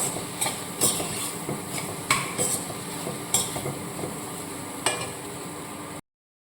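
Egg rice stirred in a pan with a metal spoon, a run of rhythmic scraping knocks about every second over a soft low sizzle, close and steady, no speech.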